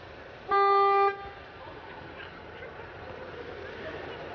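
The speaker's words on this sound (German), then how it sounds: "Hupen." A single short car horn honk, loud and close, sounds once for about half a second against quiet outdoor background.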